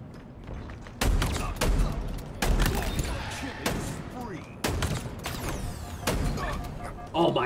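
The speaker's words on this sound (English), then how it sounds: "Oh my god, shotgun's so fucking good." Shotgun blasts in Halo Infinite multiplayer, several sharp booming shots at irregular intervals amid game noise and excited talk.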